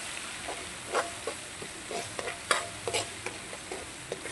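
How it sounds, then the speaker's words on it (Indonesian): Grated galangal frying in oil for fried chicken, a quiet sizzle with intermittent scraping stirs and light clinks spread irregularly across the few seconds, no voices. "Kita goreng terus sampai minyaknya itu tidak berbuih lagi."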